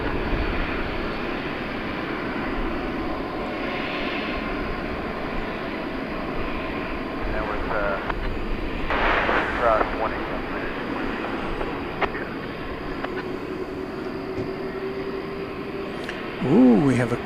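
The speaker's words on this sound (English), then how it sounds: "we have a Kalitta Air 777 freighter, a 12-year-old" A 12-year-old Kalitta Air Boeing 777 freighter at DFW Airport makes a steady, distant jet engine roar that swells slightly mid-way, with talk and faint outdoor noise around it.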